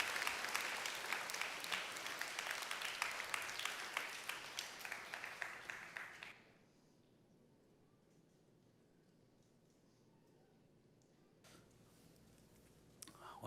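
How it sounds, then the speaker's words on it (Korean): A church congregation at a Sunday worship service gives a big round of applause to bless a family, dense sustained clapping for about six seconds that stops abruptly, followed by near silence and a faint stir. "우리 큰 박수로 축복해 주시기 바랍니다."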